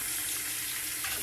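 Hot water streams steadily from a tap into a sink while prepping for a wet shave, a constant close hiss and splash with no talking.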